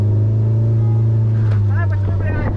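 A friend's new car revs hard as it accelerates into a drift, a loud steady engine drone throughout with rising tonal sweeps near the end while people talk over it.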